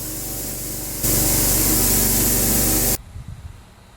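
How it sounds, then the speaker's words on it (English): Miller 375 Extreme plasma cutter slicing metal: a loud, close rushing hiss that steps up sharply in intensity partway through, then cuts off abruptly, leaving faint clatter behind. "That's the Miller 375 Extreme Plasma Cutter."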